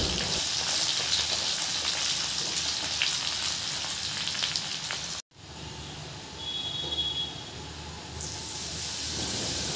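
Sliced onions fry with garlic, ginger, green chili and asafoetida in a pan, giving a loud, steady sizzle that briefly cuts out midway and then resumes.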